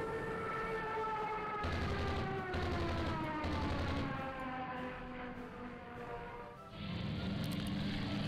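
Gunfire from carriers in the naval strategy game Rule The Waves 2, a rolling barrage of booming salvos beneath a wailing, siren-like tone that rises and falls, loud and continuous.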